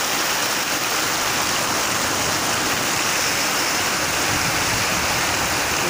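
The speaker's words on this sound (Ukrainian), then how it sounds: "Річки течуть." Rivers running high in rainy weather: a continuous, broad rushing wash of water, loud and steady throughout with no voices.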